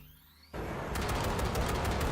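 Rapid automatic gunfire in the video game Cyberpunk 2077, fired at a train coupler, starts abruptly after a quiet moment and continues as dense, fast bursts.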